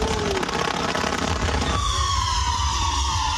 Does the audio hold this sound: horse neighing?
no